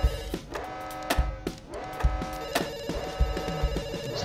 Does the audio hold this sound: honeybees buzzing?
no